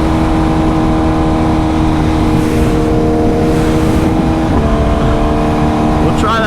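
A 2025 BMW S1000RR motorcycle engine revs hard and loud up close, a dense steady roar with harmonic pitch climbing then dropping at a gear change near the end, continuous throughout with no talking.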